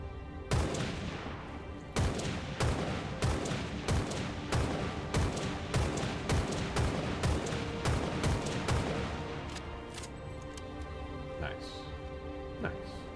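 A DMR rifle firing in a modded Halo 4 video game, a rapid series of sharp loud shots in rhythmic bursts with a few spaced shots trailing off, and a voice speaking in places.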